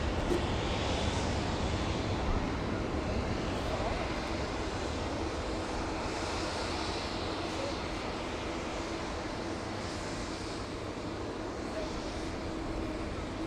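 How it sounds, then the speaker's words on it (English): An American Airlines Boeing 787 Dreamliner rumbles past at Manchester Airport with a sustained broadband jet roar that stays steady, then eases slightly, with a person talking over it. "Saying that, it's American Dreamliner."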